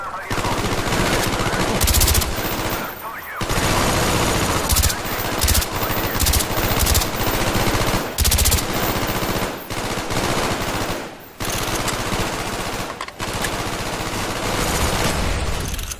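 Sustained machine-gun fire and rapid shots rattle almost continuously through a Call of Duty Black Ops mission infiltrating a Russian base, loud and close, broken by a few short pauses between bursts.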